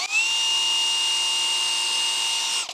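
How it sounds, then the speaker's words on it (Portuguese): An electric drill boring a pilot hole into wood for a barn-style sliding door, one steady high whine held for under three seconds before spinning down, close and loud with no talking. "então vamos fazer um furo guia aqui"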